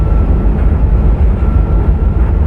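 Santa Fe Express train running in a train simulator, a loud, heavy low rumble that rolls on steadily with no breaks.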